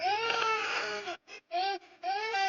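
An infant cries in a short devotional film, loud wailing bursts broken by brief gasping pauses, close and alone with no talking.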